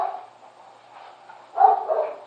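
Dogs barking somewhere nearby, a muffled run of yips and barks that swells into a louder burst toward the end.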